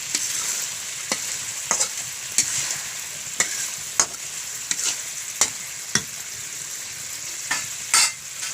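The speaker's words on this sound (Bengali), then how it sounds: "দিয়ে আমি মাছটা আর একটু কষিয়ে নেব।" Hilsa fish pieces cook down in a thick spice masala, making a bright, steady sizzle punctuated by repeated spatula scrapes and taps at irregular intervals, close up and with no speech.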